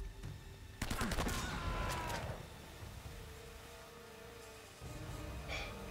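Gunfire from a taken gun in Uncharted: Drake's Fortune: a short, sharp burst of several shots, then a fading rumble and a quiet lull before one more faint crack.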